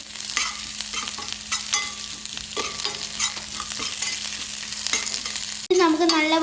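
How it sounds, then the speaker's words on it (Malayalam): Coconut and dried red chilli fry in a pan with a steady, loud sizzle while a spoon stirs them, making repeated scraping strokes against the metal. "ഇത് നമുക്ക് നല്ലപോലെ മൂപ്പിച്ചെടുക്കാം."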